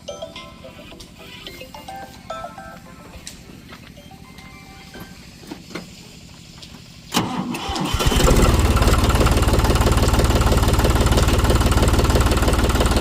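A tractor engine for a GPS laser land leveller on a farm field cranks and fires up after some quieter mechanical clatter, then settles into a loud, steady diesel rumble that holds to the end.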